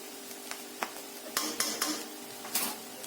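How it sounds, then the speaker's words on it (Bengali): Egg chicken chowmein noodles tossed in a pan street-food style: sharp metallic clanks and scrapes of the pan and utensil at an uneven rhythm, close and fairly loud, with a faint sizzle underneath. "দেখুন ঠিক এইরকমভাবে কিন্তু টস করে নিতে হবে।"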